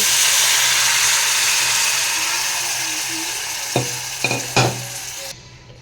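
A pan sizzles loudly and steadily, with a few sharp bursts of hissing as tomato and tamarind water is poured in for rasam, before the sizzle quiets suddenly near the end.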